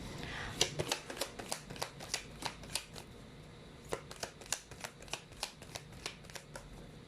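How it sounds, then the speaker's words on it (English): Rapid riffle shuffling of playing cards, crisp repeated bursts of flicking cards in quick succession, close and fairly quiet. "You saw me shuffle as always, because I've always been doing live shuffling."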